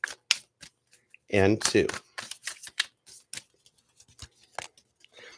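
A tarot card deck is shuffled in a quick burst of riffling cards, close and crisp, lasting under a second, with a speaker talking before and after.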